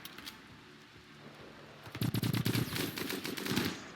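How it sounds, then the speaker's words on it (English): Rapid automatic gunfire bursts in the video game RimWorld, a quiet stretch giving way to a loud, dense rattle of shots that runs for about two seconds before tapering off. "I don't like that gunshot noise."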